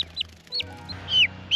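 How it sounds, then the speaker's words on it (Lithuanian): A two-week-old chick, now mostly covered in white feathers, gives several short, high peeping chirps in quick succession, close and clear over a quiet background. "Čia turim 2 savaičių viščiuką"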